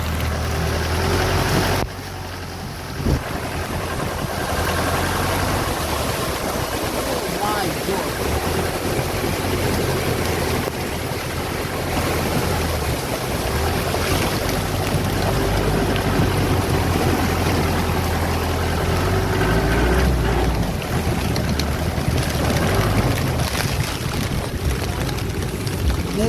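A loud, continuous roar of rushing floodwater after heavy rain in Ranavav, Gujarat, fills the whole stretch, steady and close, with occasional faint voices underneath.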